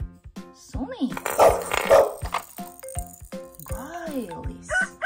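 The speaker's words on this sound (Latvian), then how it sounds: "Sunīte." A toy musical car plays recorded dog barks, several sharp yapping woofs in quick succession with a jingly electronic tone, close by, while someone speaks around them.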